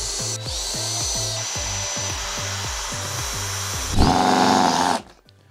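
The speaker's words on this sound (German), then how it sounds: "ich werde jetzt so rum reinbohren." Power drill driving screws into a wooden board for a homemade nail bed, a steady rhythmic whirring with repeated low pulses, rising to a louder burst near the end before cutting off abruptly; no talking.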